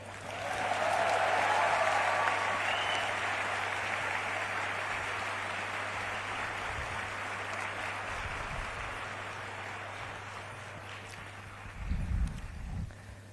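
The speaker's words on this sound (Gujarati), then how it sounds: "પણ એ તાળીઓ તમે બધા પાડો છો" Dense applause from a crowd at a public gathering in Morbi, loudest in the first few seconds and then tapering slowly, with a few low thumps near the end.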